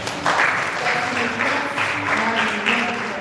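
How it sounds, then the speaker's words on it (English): An audience at a mental health awareness event applauds steadily in a room, a dense continuous clapping heard up close, with a few voices mixed in. "Let us put our hands together for our parents."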